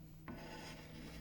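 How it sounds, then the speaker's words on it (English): The flat back of a chisel scrapes across wood for about a second, a faint, dry rasping rub that starts abruptly and carries on evenly. "using the chisel a bit of a scraper as well, and just scraping any mess away"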